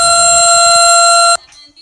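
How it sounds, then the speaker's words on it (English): A loud, steady alarm tone with strong harmonics blares from the Animal Jam video game for about a second and a half, then cuts off abruptly, leaving faint residual sound. "We have to sound the alarm."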